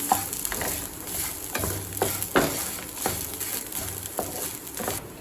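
Grated coconut and tamarind are sautéed in a pan, giving a soft continuous sizzle broken by repeated scraping stirs of a spatula, close and clear, with no talking.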